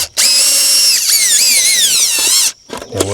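A power drill spins to loosen screws on a homestead build, a loud high whining run of about two seconds with pitch swoops as it bogs and recovers, then a few short bursts and a clunk as it stops.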